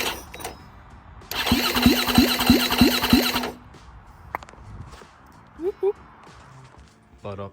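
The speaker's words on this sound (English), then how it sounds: "The new engine is turning over well." A freshly rebuilt KTM EXC rally bike engine turns over in a loud burst of about two seconds with a rapid series of cranking pulses, then drops away to a quieter background with scattered knocks.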